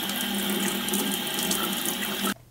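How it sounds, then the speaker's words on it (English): Tap water runs steadily and loudly into a sink while parts of a Hoover carpet shampooer are rinsed, a continuous close rush that cuts off abruptly just before the end. "Rinse them off."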